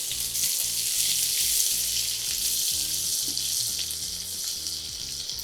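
Dried chillies, garlic and onions frying in oil, a dense steady hiss and sizzle throughout, with a regular low hum pulsing underneath.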